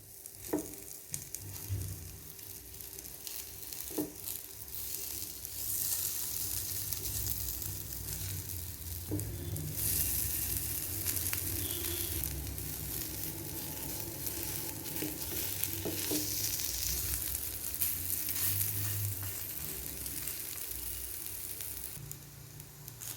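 Vegetable oats cutlets fry on low heat in a pan, giving a soft, continuous sizzle and crackle with a few faint spatula knocks and scrapes, no voices.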